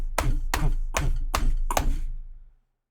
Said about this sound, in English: Clomping down the hall to the treasury